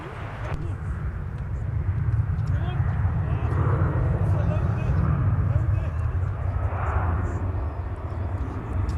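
A diverted airliner landing at Minneapolis–Saint Paul airport gives a continuous low jet rumble with a broad whooshing roar at a distance, while people talk over it.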